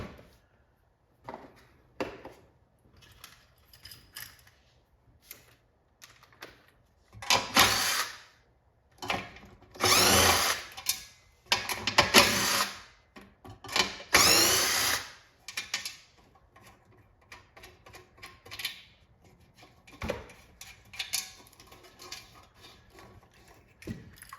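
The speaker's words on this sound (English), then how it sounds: "now we gotta take off the joystick bolts, which are 3/8" A power drill works loose the 3/8 bolts on an arcade joystick from a restored control panel, with short bursts of whirring and ratcheting between quiet pauses, up close and without talk.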